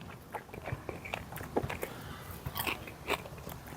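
Close bites into the crunchy skin of a grilled chicken thigh cooked on a barbecue pit grill, giving a string of crisp crackling crunches and chewing at a quiet level.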